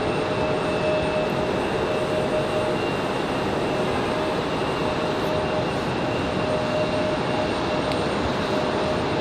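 A Delta airliner departing Raleigh-Durham for Atlanta produces a loud, steady, continuous jet engine roar that holds at the same level the whole time, with no pauses.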